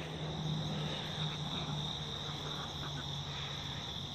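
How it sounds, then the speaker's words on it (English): A dense, continuous chorus of crickets chirping, steady and fairly loud, with no voices. "There's crickets everywhere."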